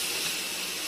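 Loud, steady hiss of taro root sizzling as it hits frying spice masala with salt and butter, a continuous close bright sizzle with no talking.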